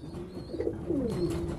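Pigeons coo at a pigeon auction selling squabs, homing pigeons and meat pigeons, with soft rolling coos close by and a faint background murmur.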